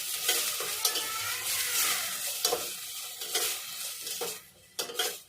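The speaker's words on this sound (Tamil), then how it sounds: "அதோட பச்சை மிளகாயும் போட்டுக்கிறேன். நல்லா வதக்கிக்கணும்." Onions and green chillies sizzle and hiss in a hot pan while a utensil stirs and scrapes against the metal, with occasional clinks, close and continuous.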